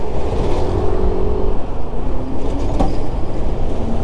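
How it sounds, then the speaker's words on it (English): Heavy street traffic with big trucks passing close by, a loud continuous rumble of engines and tyres with swelling drive-bys and a brief high squeal near the end, heard from a motorcycle lane-splitting through wide lanes. "Ooh, and there's these big ass fucking trucks."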